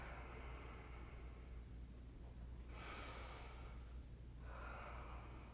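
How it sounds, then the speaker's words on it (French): Deep breaths drawn during a prenatal yoga-pilates exercise: two slow, soft airy breaths a couple of seconds apart over a quiet steady background hum. "J'essaie de respirer dans mes côtes."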